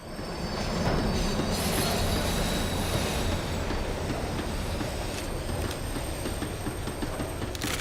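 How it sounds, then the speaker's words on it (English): Tram in the Max Payne 3 video game rolling and slowing on its rails, a loud, steady rumble with squealing wheels and high screeches throughout, no voices. "The tram was slowing down."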